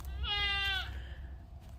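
A goat upset over empty feed sacks lets out one clear, nasal bleat, fairly close, over faint low outdoor background on a sunny winter day at a barn.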